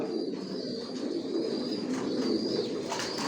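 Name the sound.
racing pigeons cooing in a loft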